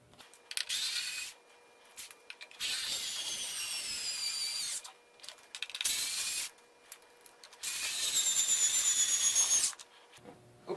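A power drill drives screws into a plywood tool storage cabinet in a garage workshop, giving several separate whirring bursts of a few seconds each with short quiet gaps between them, heard up close.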